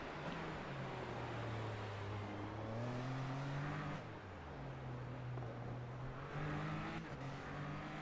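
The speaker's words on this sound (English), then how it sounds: "Cameron Fader doing some burnouts there in the rocks, kicking some debris on the track." An iRacing Super Formula Lights race car does burnouts at Circuit de Spa. A continuous engine drone rises and falls in pitch in repeated revving waves, with no talk over it.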